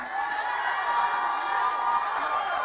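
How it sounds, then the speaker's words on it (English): A church congregation clapping and shouting together during a morning service, a steady, dense wash of crowd voices and cheering at moderate distance with no pauses. "I said clap and shout like your voice is yours"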